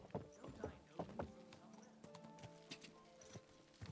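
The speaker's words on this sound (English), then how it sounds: "Don't you know how to ride a horse?" Horse hooves clip-clop on the ground while riding in the medieval video game Kingdom Come: Deliverance II, a quiet, uneven run of hoofbeats, with a few distant knocks layered under low game ambience.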